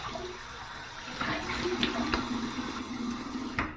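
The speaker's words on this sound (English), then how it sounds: "Here's my cold water rinse." Bathroom tap water runs in a steady stream for a cold rinse after a shave, splashing into the sink close by, with a few sharp splashes and drips over the flow.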